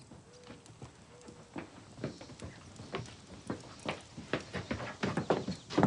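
Horse hooves clip-clop in an uneven, growing patter, fairly faint and close, with a couple of brief whistle-like tones early on.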